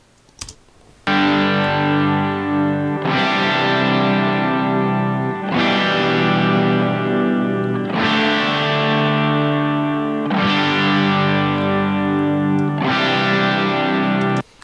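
Distorted electric guitar chords ring out in long sustained strums, struck roughly every two and a half seconds, thick and wide as if doubled.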